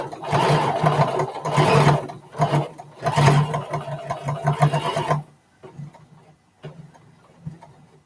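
Sewing machine stitching a quilt, a loud, fast, steady mechanical chatter running for about five seconds, then stopping, followed by a few quieter short bursts and clicks close by.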